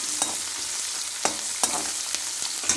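Spices dry-roasting in a pan for an onion-chilli masala, a steady sizzling hiss broken by several sharp scrapes and taps of a spoon stirring against the pan, close and fairly loud.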